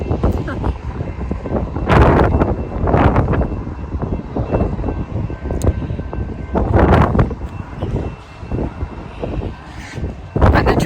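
Strong gusting wind buffets an RV parked beside train tracks on the way to Glacier National Park, roaring in loud surges that rise and fall close to the microphone.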